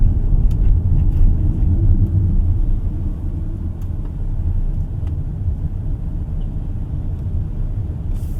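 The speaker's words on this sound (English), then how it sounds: "You can easily go fast with this car." A 2025 GAC AION Y Plus driven fast gives a steady, loud low road rumble with wind and tyre noise inside the cabin. The rumble eases slightly partway through, and no one speaks.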